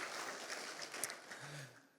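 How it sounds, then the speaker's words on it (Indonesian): A church congregation claps during a worship service, a faint, steady wash of many hands under soft room noise, with no clear voices. "Tepuk tangan dong buat Tuhan Yesus"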